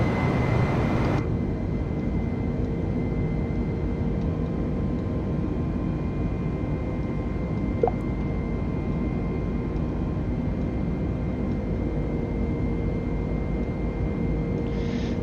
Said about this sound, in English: Here we are, taking off from Barcelona